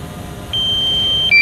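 A DJI Mavic Pro drone controller emits a sustained high electronic beep that starts partway in, then shifts to a louder, higher tone near the end, over a faint background hum.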